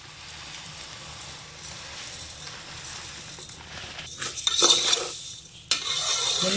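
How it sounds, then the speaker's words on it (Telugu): Semiya vermicelli frying in oil is stirred in a pan, with a soft sizzle that grows into louder, scraping stirring bursts toward the end. No one speaks. "ముందుగా సేమియా ఫ్రై చేసుకోవాలండి."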